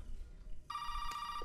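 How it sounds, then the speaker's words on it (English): A telephone in Resident Evil 7 rings with a sudden, loud electronic bell tone that starts partway through and holds steadily over a low ambient room hum. "they know when the perfect time to scare me with a phone call is"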